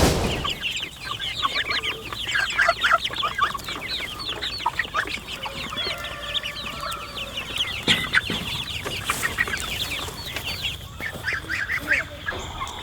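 A flock of young farm-raised chickens, growing fast after days outdoors, clucks and squawks continuously, many overlapping calls close by with no talking.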